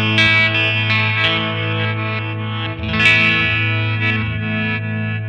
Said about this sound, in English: this one gives you like a modulated effect and almost sounds like you're playing in reverse